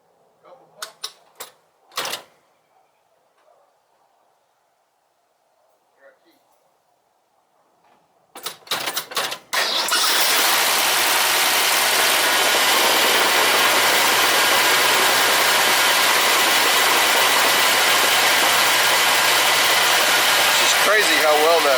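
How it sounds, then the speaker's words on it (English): A 1966 Ford Mustang engine starts in cold weather: a few quiet clicks and handling sounds, then the starter cranks and the engine catches into a loud, steady, rumbling idle that continues to the end. "Crazy how well that starts up."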